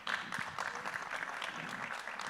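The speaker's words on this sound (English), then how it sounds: "So I would like you to give Ri a very warm round of applause as Innocent comes in to give his keynote add" An audience at a regional research symposium gives a keynote speaker a warm round of steady clapping that continues evenly for a couple of seconds.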